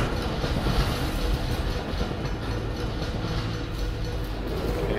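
A train in the video game Dishonored runs with a steady, dense rumble and faint rhythmic rattling, close and continuous throughout, with no speech.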